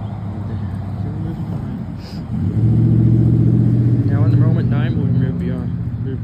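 Two WSRR railroad locomotives, numbers 9 and 45, idling after a cold start, a low steady diesel throb that swells louder midway and holds, with a person talking over it.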